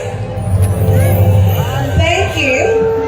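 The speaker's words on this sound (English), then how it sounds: "a round of applause for the chairman of the Board of Judges" A pageant crowd at the Miss Talisay 2025 event cheers and whoops loudly, with a dense hubbub of voices and some musical tones mixed in.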